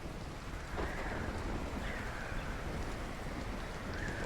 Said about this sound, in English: Look at all this nice rain, getting our crops going.